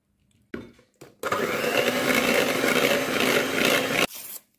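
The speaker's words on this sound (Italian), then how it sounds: "Batto i tuorli con l'olio." An electric mixer beats egg yolks with oil: a brief whir, a short pause, then about three seconds of steady, loud, close whirring before it cuts off, with no talking.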